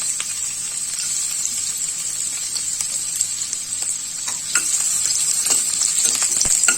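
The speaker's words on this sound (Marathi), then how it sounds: "ते व्यवस्थित गरम झालं की पहिली आपण त्याच्यामध्ये लसूण घालूया." Garlic frying in about two spoons of hot oil in a pan, a bright crackling sizzle with scattered pops and spatters, close and steady, swelling a little toward the end, no voices.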